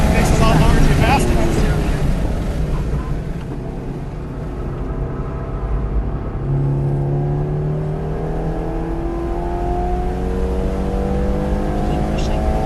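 Race car engine heard from inside during a passenger taxi ride on a track, a steady droning motor with rising and falling revs through shifts, close and continuous beneath occasional talk in the cabin.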